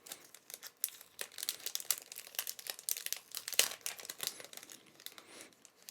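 Crinkly plastic packaging on a subscription-style box is pulled open and unwrapped, a dense run of close crackling and rustling bursts with a few sharper crunches, no talking.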